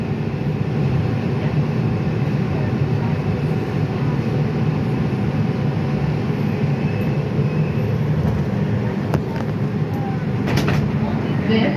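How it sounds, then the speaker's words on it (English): A New York City R142 subway car on the Bronx-bound 5 express roars steadily along the tracks, a dense continuous rumble with occasional rattles and clanks, heard from inside the moving train. "This is a Bronx-bound 5 express train."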